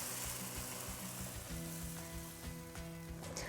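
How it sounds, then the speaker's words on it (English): Green salsa hits hot oil in a pan, giving a loud, close, continuous sizzle and crackle with no talking. "Carefully pour in your green salsa."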